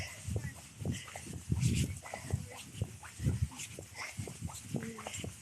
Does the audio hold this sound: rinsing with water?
no